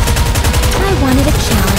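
Rapid automatic gunfire in the PC game NIKKE: Goddess of Victory, a dense steady burst of shots that runs the whole time beneath game music and a voice.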